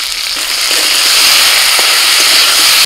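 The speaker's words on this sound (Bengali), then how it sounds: "2 থেকে 3 মিনিট আলুটাকে একটু ভেজে নিয়ে" Potatoes seasoned with salt and turmeric frying in a pan, a loud, dense, continuous close hiss like steady rain, with faint scattered crackles underneath.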